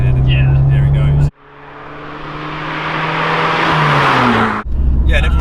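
An Abarth 595 Competizione accelerates hard in third gear, its engine note rising steadily as turbo boost builds, loud and close from inside the car, then a sudden gear change cuts it off.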